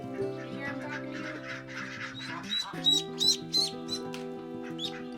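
Ducklings peep in soft, high chirps on a homestead, mixed with steady tonal background music, close and moderately quiet with no talk.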